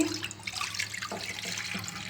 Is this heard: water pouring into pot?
yes